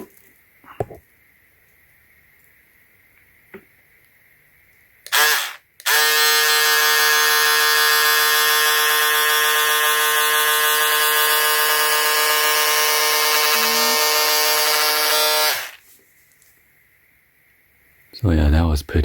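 VLOXO cordless rechargeable electric scissors cutting fabric: a loud, steady motorized buzz lasting about ten seconds, with short bursts just before and after and a few small clicks in a quiet surrounding.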